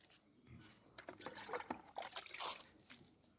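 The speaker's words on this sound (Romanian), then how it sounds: "punem apă prin ele" Water poured from a container onto potted strawberry plants, trickling and splashing steadily into the soil for a few seconds, close and moderately quiet.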